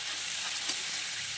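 Crab, cooked with the orange crab fat, sizzles and fries in a pan with a steady, close hiss and a faint crackle.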